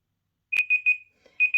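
A workout timer alarm sounds a sequence of short, pure electronic beeps, with one strong chirp followed by a quick rhythmic run of repeated tones, clear and isolated in silence.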